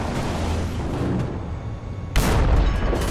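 A modern anti-aircraft gun firing in the War Thunder video game, with low rumbling booms building and then a sharp, loud burst of gunfire near the end.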